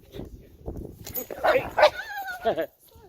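A dog lunges at a passerby and barks and yelps in sharp bursts close by, mixed with a person's startled voice.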